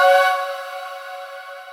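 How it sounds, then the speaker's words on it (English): A sustained girls' choir tone, airy and bright from a heavily boosted high end, rings out with a long reverb tail that slowly fades; no talking. "So I am using this girls choir"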